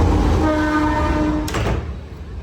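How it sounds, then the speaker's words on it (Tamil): A train rumbles past close to a house in Jaffna, Sri Lanka, its steady low roar and clattering wheels filling the scene, with a brief loud burst near the middle and no one talking. "ஓகே இந்த ட்ரெயின் வந்துட்டு"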